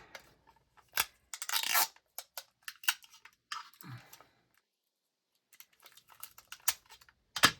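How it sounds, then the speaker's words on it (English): A strip of tape is pulled and torn off a roll while making a St. Patrick's Day wreath, with a sharp tearing burst among scattered close clicks, crinkles and quiet handling noises. "let me just hold that while I get a piece of tape."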